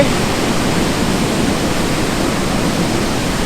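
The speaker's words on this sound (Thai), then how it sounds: "ใหญ่สุดละที่ผมเห็นมาในชีวิตนี้น้ำตกนะ" A huge Thai waterfall, Nam Tok Hew Narok or Hew Suwat, roars as a loud, steady wash of rushing water, constant and unbroken throughout, with nobody speaking.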